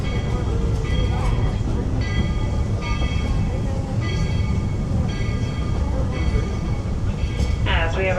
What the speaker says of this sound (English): As we arrive into Main Street Station, please remain fully seated and completely inside the train until the train comes to a full and complete stop.